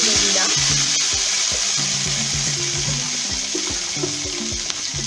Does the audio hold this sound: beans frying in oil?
yes